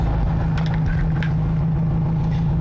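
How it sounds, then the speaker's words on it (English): A fuel economy car with an incomplete exhaust drones loudly and steadily, its deep low-pitched engine rumble unbroken, with a few faint clicks and knocks on top and no one speaking. "It's only loud because the exhaust is incomplete"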